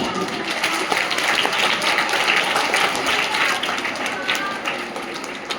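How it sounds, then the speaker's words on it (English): Applause for the dancers at a Republic Day celebration, a dense, sustained wash of clapping from a large crowd that stays loud throughout and tapers slightly at the end. "A big round of applause for the team."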